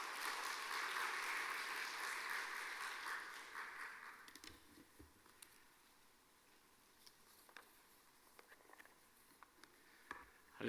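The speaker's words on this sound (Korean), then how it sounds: "따뜻한 박수로 한번 환영해 주시기 바랍니다." Warm applause from a church congregation at a Sunday service fills the first four seconds, then fades into a quiet room with scattered small knocks and rustles.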